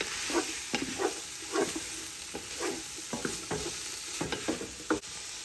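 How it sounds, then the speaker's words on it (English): Meat sautéing in olive oil in a pan for Persian lubia polo, with a steady sizzle and repeated stirring scrapes every half second or so, close and fairly loud. "I'm just sauteing the meat"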